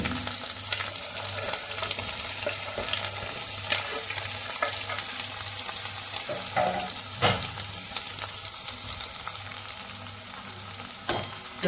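Chopped onion, chili and garlic fry in a pan with Manchurian, a steady close sizzle broken by scattered scraping stir strokes, with a low hum throughout.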